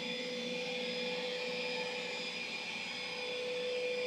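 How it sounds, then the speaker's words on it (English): Eufy E20 3-in-1 robot vacuum running in robot mode at maximum suction, a steady, fairly quiet whirring drone with a faint high whine, constant and alone. "this is how loud the E20 is in robot vac mode on max suction"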